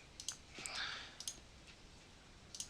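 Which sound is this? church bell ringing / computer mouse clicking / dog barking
computer mouse clicking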